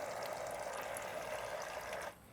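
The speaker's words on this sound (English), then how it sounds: "a little on-off water faucet right there" Water gushing steadily from a small on-off faucet on a camping setup, a close hissing rush that cuts off abruptly near the end, with air in the line.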